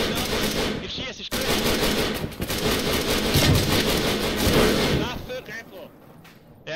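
Heavy automatic gunfire rattles in Arma 3, dense sustained bursts with a brief pause, loud and close, while players talk over the shooting.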